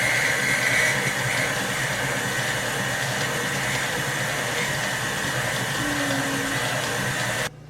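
An electric mixer runs steadily on gingerbread cookie dough with flour and whipped cream, a continuous motor whir and hum holding close and loud for the whole stretch before cutting off at the end.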